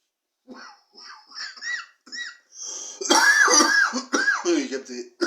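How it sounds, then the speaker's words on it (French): Harsh, close coughing fits follow a vape hit from a Biggy Bear device run at 32 watts with the airflow wide open. Short throaty bursts grow louder and more rapid toward the end, with a voice heard briefly. "Là, je tousse."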